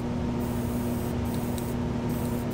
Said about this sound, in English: it's just totally clogging up my airbrush again